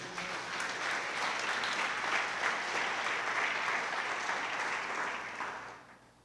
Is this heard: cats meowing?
no